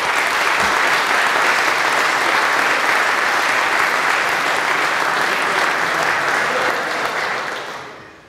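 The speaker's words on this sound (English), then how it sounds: "Please give this group of alumni another heartfelt round of applause." Sustained, dense applause from an audience in a school chapel during an alumni weekend ceremony rolls on steadily and loud, then fades out at the end.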